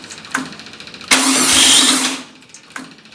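A 1965 VW Beetle engine cranks with short sputters, then briefly catches in a loud, close roar lasting about a second before dying back to cranking sounds.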